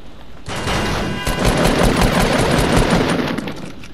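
Rapid bursts of gunfire in the Fortnite battle royale game, loud and close, with a dense stream of shots that swells and fades over a few seconds.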